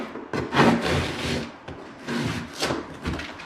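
Drywall being notched with a hand tool, a handful of rough rasping strokes in quick uneven succession, close and fairly loud, with no talking.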